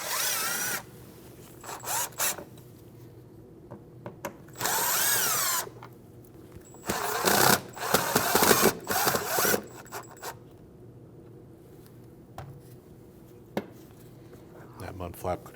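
A power drill removes the three screws holding the right front mud flap on a 2012-2016 Honda CR-V, sounding in several short, loud whirring bursts separated by pauses and softer handling noises.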